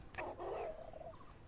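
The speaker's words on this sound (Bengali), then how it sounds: "এই মোরগটা চুপ কর তো" A nearby rooster lets out a brief, faint crowing call followed by a few soft clucks.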